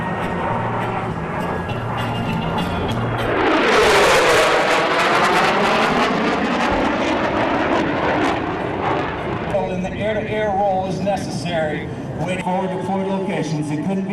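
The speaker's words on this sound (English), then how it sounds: "our next 2 interdiction fighters are going to come in" Pair of interdiction fighter jets roaring past at an Alaska joint forces air show at Elmendorf Air Force Base, a loud swelling jet rush with a Doppler sweep that fades into distant rumble, under an announcer's voice.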